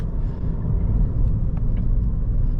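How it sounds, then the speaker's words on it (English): A 2017 Volkswagen Golf GTI with a six-speed manual rolls over a small hill at about 20 mph, giving a steady, close low rumble of engine and road noise throughout with no talking. "we test the cars all at 20 miles an hour over this little hill here"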